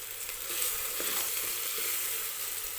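Ginger garlic paste frying in hot oil for mutton biryani gives a steady, close hiss and sizzle, broken by light stirring scrapes, with no voices.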